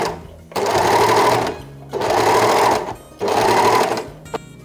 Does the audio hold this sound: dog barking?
no